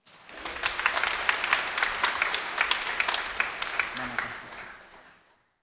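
A church congregation gives warm applause to welcome a nun: dense, even clapping from many hands that swells quickly, holds for several seconds, then tapers off.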